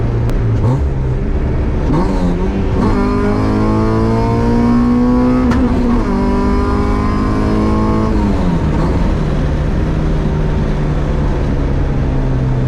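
An all-motor H2B-swapped Honda Civic streetcar revs hard and accelerates through rising engine pitch, with a shift break partway and a second climb, loud and close throughout without talk.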